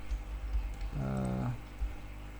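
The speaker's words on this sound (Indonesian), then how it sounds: "Kita ketikkan UN di keyboard kita." A few quick keystrokes on a computer keyboard while entering a command during Revit drafting software work, soft and close, with a brief murmur of voice in the middle.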